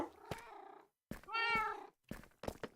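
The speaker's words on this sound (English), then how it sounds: "There's another cat." A cat in the video game Minecraft meows several times, short tonal mews with one longer drawn-out call in the middle, close and clear with no speech.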